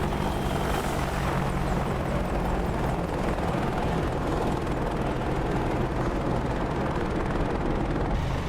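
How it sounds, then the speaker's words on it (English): Helicopter rotor and engine roar from a combat flight video game, a steady loud drone with heavy low-frequency thumping that holds throughout without pause. "Helicopters spotted."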